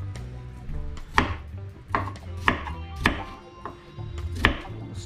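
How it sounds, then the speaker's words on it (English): A knife chops a small piece of yam for Jamaican conch and bussu soup, with about seven firm, evenly spaced cuts landing on a board, close and clear with no talking. "Chop it up, same way in some small pieces."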